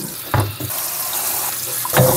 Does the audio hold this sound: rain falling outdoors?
no